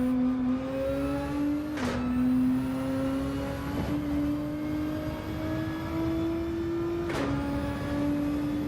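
A racing car in Gran Turismo 7 on a practice lap, its engine a loud, continuous whine that climbs steadily through each gear and drops sharply at two quick upshifts.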